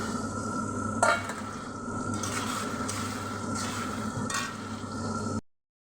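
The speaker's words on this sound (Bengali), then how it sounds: "এবার পেঁয়াজটা ভাজা হয়েছে, পেঁয়াজ, লঙ্কা, কাঁচা লঙ্কা এবার আমি মশলাটা দিয়ে কষিয়ে নেব সামান্য।" Onion and green chillies with spices frying in a pan, a steady close sizzle with a spatula scraping and stirring a few times, a sharper clink near the start.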